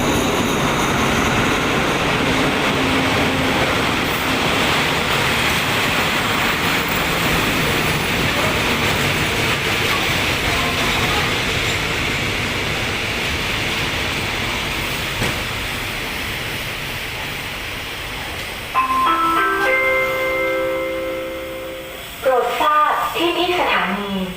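SRT diesel locomotive 4120 hauling special excursion train 912 from Suan Son Pradiphat to Bangkok, with air-conditioned Blue Train sleeper cars, rolls past as a loud continuous rumble and clatter, with brief tonal notes toward the end.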